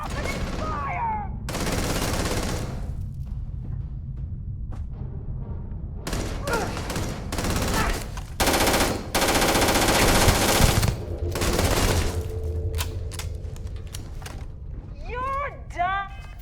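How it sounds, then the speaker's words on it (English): Gunfire in the video game Starfield, with bursts of rapid automatic shots and heavy single blasts separated by short pauses, loud and close, with game voices calling out between the volleys. "Opening fire!"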